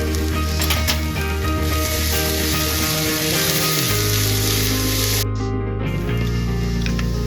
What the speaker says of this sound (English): then add garlic. Let it cook for about 3 to 4 minutes.